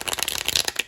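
Tarot cards being shuffled by hand during a reading, a quick run of crisp riffling flutters and soft slaps close up, with no talk.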